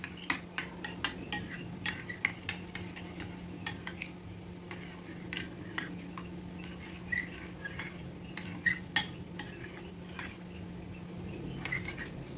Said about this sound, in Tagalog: i-mix lang natin